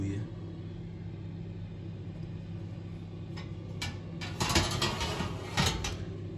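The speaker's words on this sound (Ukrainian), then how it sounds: "там є вентилятор такий ззаді для конвекції" A Samsung NV68A1110RB electric oven's rear convection fan runs as a steady low hum, joined late by a few sharp clicks and light metallic knocks.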